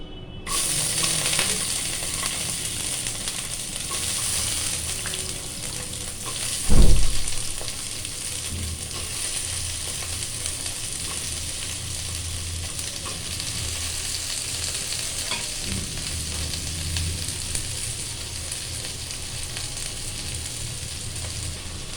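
Mixed vegetables hit hot oil and sizzle steadily for a long stretch, a loud continuous frying hiss with one sharp clatter early on and occasional stirring noises.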